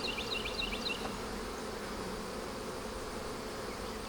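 Honey bees in an open hive fill the air with a dense, steady drone from many insects, close and constant, with a few higher buzzes flicking past early on.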